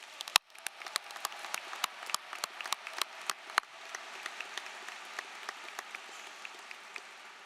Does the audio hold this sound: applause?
yes